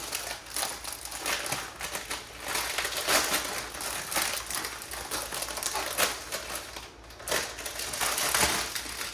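Oreo cookies are crushed inside a one-gallon Ziploc plastic bag, a close and continuous crunching and crinkling that rises and falls in uneven waves for several seconds, with no talking.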